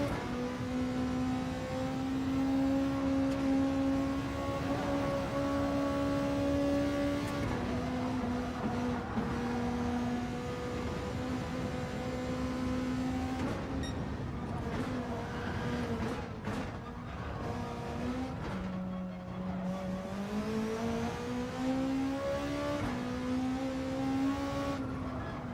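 A car drifts around Bathurst in the racing game Gran Turismo 7. Its engine note holds a loud, sustained drone that rises and falls as the revs shift, with a dip and climb near the end.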